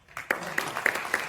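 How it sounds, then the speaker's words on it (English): An audience at a Bhagavad Gita event in Frankfurt claps briefly, a short burst of applause with a few sharper individual claps standing out. "A bigger round of applause."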